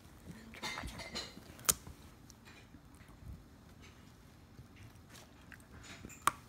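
A basenji dog bites pieces off a carrot with its incisors, giving a few close, sharp crunches and clicks, two standing out, over quiet chewing and light handling noise.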